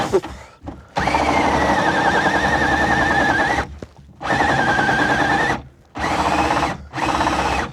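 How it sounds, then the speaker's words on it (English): A power drill whines loudly in three long runs separated by brief pauses, drilling holes in a Land Rover Defender 110 interior, with a steady motor hum and rising pitch as it bites in. "for reaching up and drilling out"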